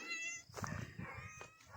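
A cat meows a couple of times close by, indoors underfoot, the calls fairly faint.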